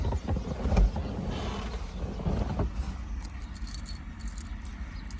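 The three keys of a 1957 BMW Isetta jangle softly in a few small metallic bursts, mostly toward the end, over a low rumbling background.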